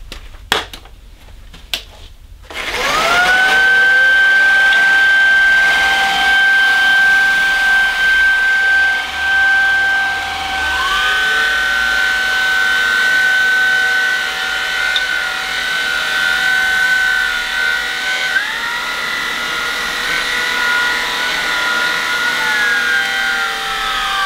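A Shark IZ201UK cordless vacuum cleaner starts after a few clicks and runs as a loud, steady motor whine on a carpet setting. Its pitch steps up twice as the suction is raised toward maximum.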